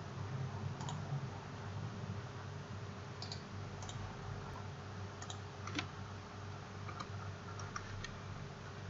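Faint, scattered computer mouse clicks while working in Tekla Structures, a few isolated taps and small quick clusters over a quiet steady hum, with no talking.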